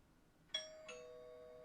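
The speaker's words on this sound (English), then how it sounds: "Why did my doorbell ring?" A doorbell rings once with a two-tone ding-dong, the chimes ringing out clearly and fading slowly in a quiet room.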